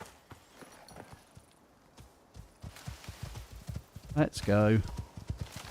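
Horse hooves clip-clopping in the video game ICARUS, a steady walking rhythm under a spoken voice, ending in a louder burst of movement.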